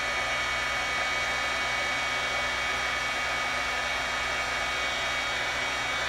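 A heat tool blows a steady, loud whirring roar without pause while melting white embossing powder for a card, with no voices over it.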